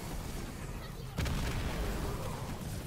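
Gunfire and artillery in the video game Halo Wars 2 crack and boom at moderate volume, with a sharper burst of shots midway through a continuous battle din.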